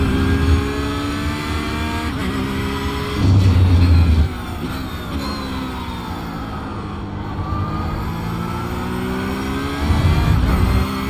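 A Porsche GT3 race car in the iRacing sim, with a loud, high-revving engine whose pitch climbs and falls through gear changes and throttle lifts, with brief louder surges, and no voices.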